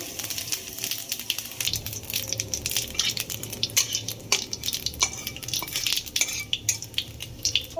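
Cumin seeds tempering in hot oil left in a pan after frying potatoes, with soft crackles and close scraping and clinking of a utensil against the pan over a faint sizzle.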